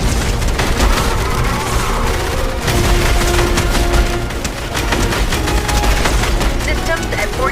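Rapid video game gunfire crackles without pause, dense and loud throughout, with bursts and booms layered into a constant barrage.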